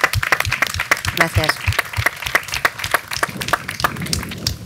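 Audience applause for the Ayuntamiento de Fuenlabrada at a summer cultural programme presentation, a run of distinct, fairly close hand claps in irregular rhythm while a voice speaks briefly.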